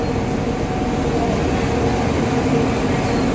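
Diesel engine of an Asia Star bus from DLTB Co., a steady, loud low rumble and drone running continuously without change, with no speech.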